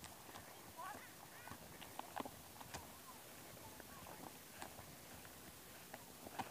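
A horse's hooves clip-clop in a riding arena at a riding stable near Campo di Giove, faint, uneven steps in the background as people talk over them.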